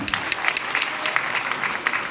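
A large audience at a JDU political party open convention claps continuously, a dense, steady, fairly close wash of applause with no break.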